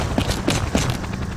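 Sidearm pistol shots in the shooter game Mars (Mercenary Ops) while firing at training targets, about four quick sharp reports spaced evenly over a short moment, close and fairly loud.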